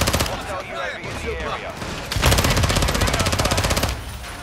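Fast automatic gunfire in Call of Duty: Modern Warfare II multiplayer, rapid rattling bursts that grow louder and denser midway and then continue steadily, close and heavy.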